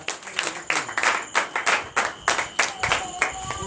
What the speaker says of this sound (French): Nous donnons l'acclamation à Jésus.